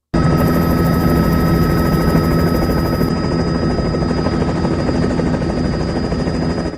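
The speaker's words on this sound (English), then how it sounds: "It's just a helicopter over top." A helicopter passes overhead during a crowded ICE protest in San Diego, its loud, steady rotor thrum filling the air without pause.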